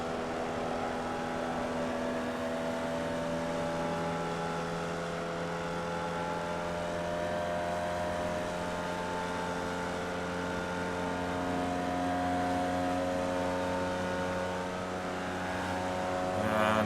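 Formula Vee race car engine in the iRacing sim at Virginia International Raceway, a steady droning engine note holding level for the whole stretch, with a brief throttle lift and then back on power, close and continuous with no talk.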